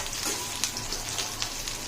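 Tempering (bagar) sizzling in hot oil, a brief, soft, dense crackling hiss with a few small pops, steady and fairly quiet, with no voices.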